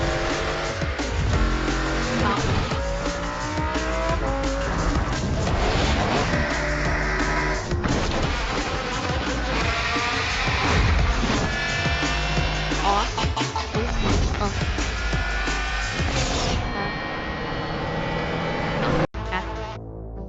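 Mercedes S600 V12 exhaust roaring inside a tunnel test center, loud sustained bellow with rising and falling revs and echoing harmonics, then cutting off abruptly near the end.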